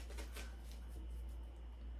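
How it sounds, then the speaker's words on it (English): Soft, close riffling and flicking of shuffled tarot cards, a quick burst of papery snaps early on, then quieter shuffling against a low steady hum. "One more shuffle."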